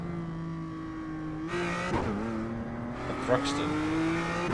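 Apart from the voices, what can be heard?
BMW M2 CS race car engine in iRacing video game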